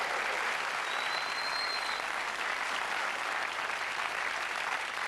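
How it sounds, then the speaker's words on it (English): Studio audience applauding a footballer's first career trophy, the Challenge Cup, on a Scottish football comedy show: steady, dense clapping that holds loud and even throughout, with no talk over it. "Come on, wee round of applause for that."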